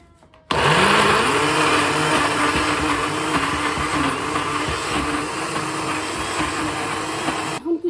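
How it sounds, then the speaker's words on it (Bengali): A kitchen blender grinding dried fish into paste for a Sylheti shutki bhorta, starting abruptly with a loud, steady whirring motor that runs for several seconds close by, then stops near the end. "এত ভালো ব্লেন্ডার"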